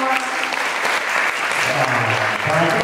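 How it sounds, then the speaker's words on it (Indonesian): An audience of high school students at a leadership training session in Bekasi bursts into loud, sustained applause mixed with crowd noise, filling the room at steady volume throughout. "Ya, tepuk tangan untuk kita semua."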